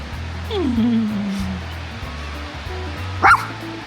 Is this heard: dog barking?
yes